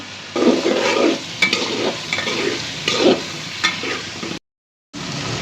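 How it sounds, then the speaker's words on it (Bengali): Chicken pieces sizzle loudly in hot oil, with occasional stirring clatter, close up, no talking; the sound cuts out briefly near the end. "এখানে মুরগির মাংস কয়েকটি, সেগুলো ফ্রাই করে নিতেছি।"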